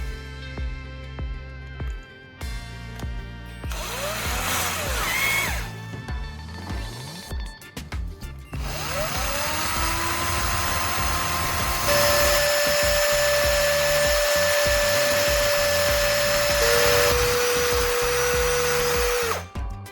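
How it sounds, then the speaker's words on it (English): A power grinder wails loudly and continuously as it shapes a battery's core into a fine soldering tip, its motor whine shifting pitch as the load changes, with no talking. "Next, I'll grind the battery core to shape it into a fine soldering tip."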